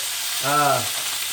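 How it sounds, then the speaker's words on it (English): Meat for chilli sears in a hot pan with a steady, close sizzle, broken briefly by a short tonal squeak partway through. "I'm just kind of searing it."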